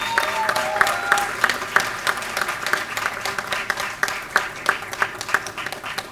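Audience applause at an annual day awards ceremony for an art college student's merit award: a steady wash of many hands clapping with sharper individual claps standing out, sustained throughout at moderate loudness.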